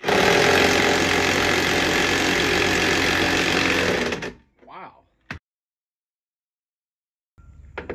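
Loud, continuous mechanical whirring and grinding runs for about four seconds as an impact gun works a tight bolt on a VW Beetle swing-axle transaxle. Then it cuts out, leaving a short clank and quiet.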